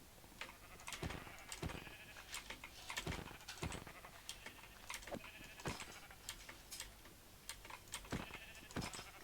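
Sheep in the video game Minecraft bleat repeatedly, with several short bleats spaced through the clip over a quiet game background.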